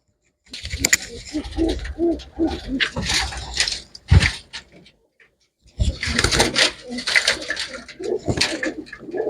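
Pet pigeons in a fancier's loft coo in soft, rolling bouts, with a brief lull midway before the throaty cooing resumes, close by and moderately loud.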